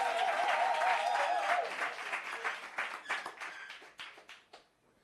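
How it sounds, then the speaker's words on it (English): Workshop audience applauding the MC: a crowd's clapping that starts full under a brief voice, then thins into scattered individual claps and fades out. "let's give our amazing MC a round of applause"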